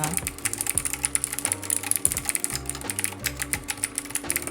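A Keychron Q1 mechanical keyboard with stock clicky switches is typed on steadily, producing dense, crisp clacks in a fast irregular rhythm, close and clear without speech.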